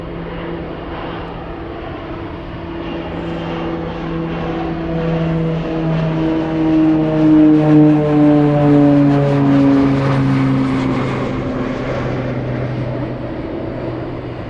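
An MD-11 jet takes off from Anchorage airport with a sustained, powerful engine roar that gradually rises in pitch and swells louder mid-clip before easing slightly, heard from a moderate distance.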